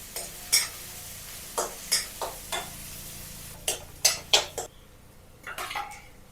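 Onions sauté in a pan while being stirred. Repeated sharp clinks and scrapes of a utensil against the metal ring out over a soft, low sizzle, with no voices.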